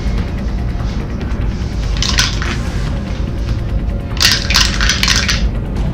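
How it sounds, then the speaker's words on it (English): A heavy die rolls and clatters across a tabletop during a tabletop game session, with two bursts of rattling over a constant background rumble. "Well, that's a heavy dice."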